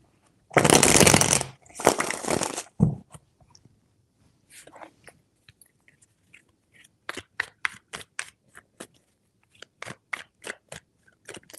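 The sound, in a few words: tarot cards being shuffled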